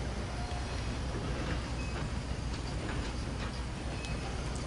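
A train rolls along a long railway line in the video game Red Dead Online on PlayStation 4, a steady, quiet rumble with faint rhythmic ticking, no voices.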